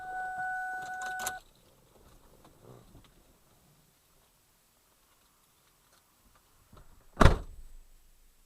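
A parked car on a storm-strewn road: a short burst of mechanical whirring and clicks, a long quiet stretch, then one loud close door thunk followed by brief rustling.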